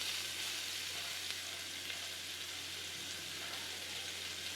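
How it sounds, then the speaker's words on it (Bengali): Sliced onions fry with tilapia fish in oil in a pan, giving a steady, dense, close sizzle that holds evenly throughout with no pauses and no talking. "পেঁয়াজটা একটু ভেজে নেব"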